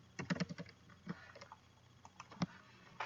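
Search words typed on a computer keyboard, a quiet irregular run of key clicks with short pauses, close and alone.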